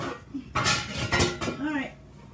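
Metal pots and pans clatter and clank in a short, busy burst as someone rummages through them in a kitchen for a metal loaf pan, with brief ringing scrapes close by.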